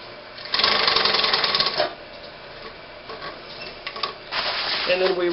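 An electric sewing machine double-stitches webbing onto a hovercraft finger skirt, running in a loud steady burst near the start, pausing, then buzzing again in shorter runs toward the end.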